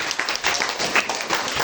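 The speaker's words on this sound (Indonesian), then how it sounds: "tepuk tangan untuk kita semua" A group audience claps together at an indoor training session, giving a short burst of dense, steady applause that stays fairly loud throughout.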